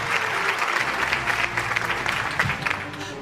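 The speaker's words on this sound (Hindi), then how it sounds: "10 साल खिदमत के एतराफ़ में भरपूर तालियां होनी चाहिए ख़ातिन और हज़रात इन सब लोगों के लिए" An audience at an annual news-network award show claps loudly and steadily, a dense wash of applause that holds level throughout, with a faint voice murmuring underneath.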